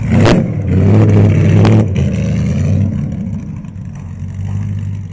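An Alfa Romeo 8C, a Le Mans-winning vintage racing car, roars loudly up close as its engine revs and accelerates through gears, a deep throbbing note that eases slightly toward the end.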